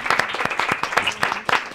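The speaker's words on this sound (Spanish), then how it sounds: "un aplauso" Applause from an audience at a summer-school storytelling session, a burst of scattered hand claps with some voices mixed in, fairly close and moderately loud.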